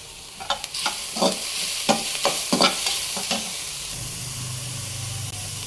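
Mushrooms frying in a pan for a bread sandwich give a steady sizzle, broken by a series of sharp scraping stir strokes in the first half before settling into a continuous hiss, close up.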